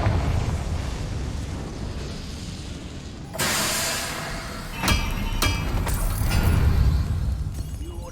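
A Confringo blasting spell explodes in the video game Hogwarts Legacy, a sudden loud burst about a third of the way in, then sharp crackling pops and debris over a rumbling backdrop.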